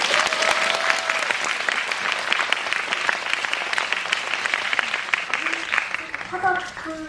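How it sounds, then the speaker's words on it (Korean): An audience applauds during a special Q&A screening of the Korean film Bohoja, with dense, sustained clapping throughout and faint voices and brief tonal sounds toward the end. "저희 박수 한번 주세요"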